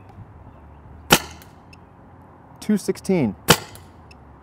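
Two sharp, isolated airsoft rifle shots fired through a Lapco FSR rifled barrel, each a single crisp snap, with a brief spoken number between them.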